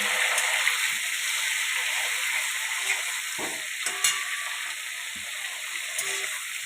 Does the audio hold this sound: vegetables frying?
yes